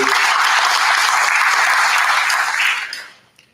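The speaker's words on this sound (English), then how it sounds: "a round of applause, please, for these individuals" Audience at a school district board of education meeting gives a round of applause, a full, even roar of clapping from a roomful of people that holds steady then fades out at the end.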